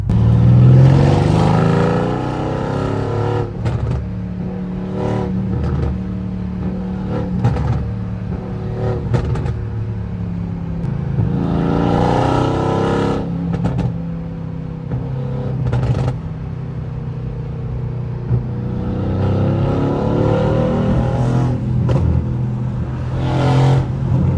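A Mercedes-AMG C63 S engine with catless downpipes revs hard and roars loudly in repeated surges, with rough exhaust rumble throughout and no talking.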